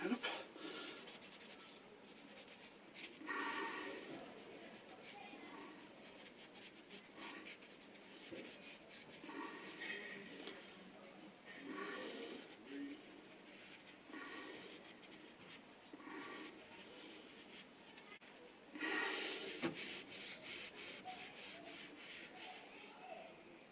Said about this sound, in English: A little bit of steel wool here, which I'm going to use. clean it up.